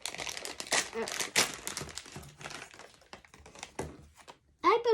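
A foil SuperThings blind packet is torn open by hand, giving close, bursty crinkling and rustling with brief gaps, and a voice speaks now and then.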